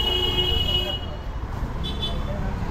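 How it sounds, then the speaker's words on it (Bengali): Horns toot in a busy Kolkata street amid a low traffic rumble, with a sustained honk at the start and shorter beeps later, and people talk over the noise. "এত হর্ন বাজায়"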